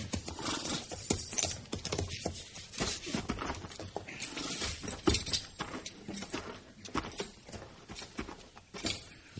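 Horses' hooves clip-clop and shuffle at close range, an irregular patter of footfalls on ground in an Old West town setting, fairly steady throughout with no talking.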